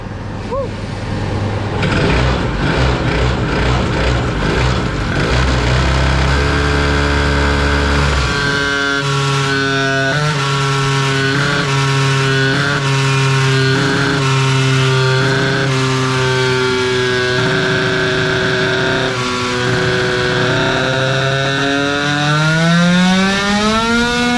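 A 70cc 2Fast two-stroke scooter engine on a dyno bench at a tuning shop screams loudly throughout, first choppy and blipping, then holding a high whine and climbing steeply in pitch at the end.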